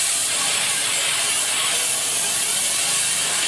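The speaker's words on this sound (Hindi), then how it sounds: "इस वक्त भाई ये छुरियाँ जो हैं वो बना रहे हैं, उनको तेज़ कर रहे हैं" Knives being sharpened on a grinder in a workshop, giving a steady, harsh, bright hiss with no pauses and no voices.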